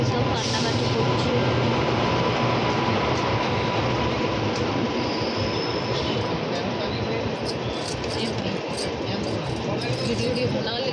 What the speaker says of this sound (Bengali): আমাদের ট্রেন কলকাতা স্টেশন থেকে ছাড়া হয়ে গেছে